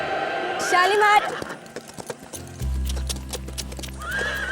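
Horse whinnies loudly near the start, its hooves then clopping in an irregular beat while a low rumble sets in; a film scene with a steady background hum.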